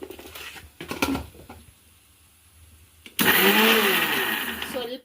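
After some talking and a bit of clatter, a mixer grinder starts abruptly on grated raw mango with rock salt, its loud whirring roar holding steady until it cuts off at the end.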